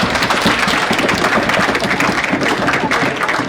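A conference audience at the final session of a national event claps in sustained, dense applause. It is loud and continuous and close to the listener, with no pauses.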